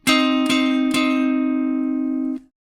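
A clean guitar strikes a minor-third double stop three times in quick succession, then lets it ring steadily for about two seconds before muting it.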